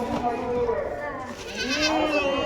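A Kathiawari dairy goat bleats close by in a wavering, drawn-out call, with someone talking over it at a livestock sale.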